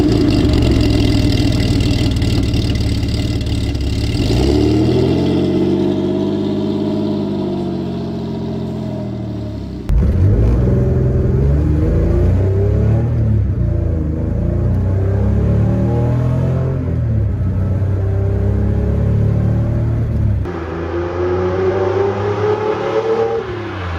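A Lancia Stratos engine roars and revs loud and close, repeated surges climbing in pitch before dropping back, with a deep rumble between bursts and no talking.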